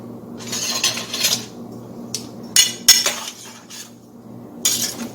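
A metal spoon clinks and scrapes against a pot of peach cobbler filling heating toward a boil, in several short bursts of bright clatter separated by quiet pauses.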